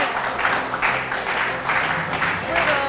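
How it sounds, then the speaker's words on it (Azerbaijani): A studio audience on a talk show claps in swelling bursts, the applause pulsing in waves with voices mixed in underneath. "alqışlar."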